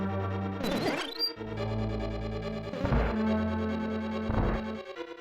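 Retro chiptune bleeps: buzzy square-wave tones hold steady, broken by a few noisy sweeping zaps, like old console sound effects.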